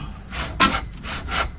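A hand saw cuts through bamboo, its rasping back-and-forth strokes sounding up close in about four even passes.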